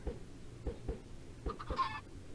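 Minecraft chickens cluck after thrown eggs hatch, several short blocky clucks in quick succession at moderate volume, alone and close.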